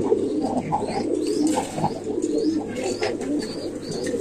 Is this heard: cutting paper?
no